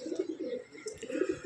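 Black racer pigeons, two males, coo softly in a steady, rhythmic series of low throaty calls, close by, with faint background noise and no talk.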